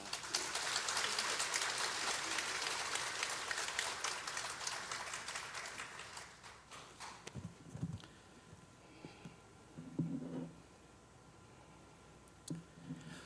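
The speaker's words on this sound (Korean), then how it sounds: "하나님께 감사 박수, 영광의 박수 올리겠습니다." Church congregation at a Korean Liberation Day joint worship service clapping in thanks as a pastor comes forward, a dense burst of applause fading out after several seconds into quieter scattered sounds.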